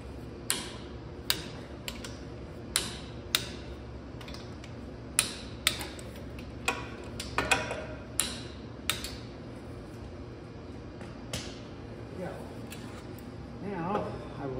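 A torque wrench clicks while differential bolts on a Dana 60 axle are torqued, a series of sharp separate clicks at irregular intervals over a low steady hum, fading out toward the end.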